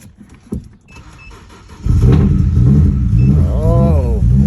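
A BMW project car that sat for two days cranks and its engine fires up, settling into a loud, steady idle after a few quieter clicks and thumps, with a brief voice over the running engine.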